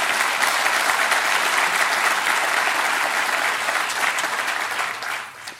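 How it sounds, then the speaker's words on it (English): Sustained applause from a large audience at a governor's state address, a loud, dense roar of clapping that holds steady and then tapers off near the end. "Give him a round of applause."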